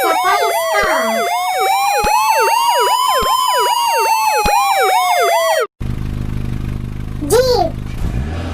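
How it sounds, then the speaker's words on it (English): Police car siren with a fast, loud warbling yelp cycling steadily for several seconds, then an abrupt cut to rumbling background noise and a short rising tone. "It's a police car."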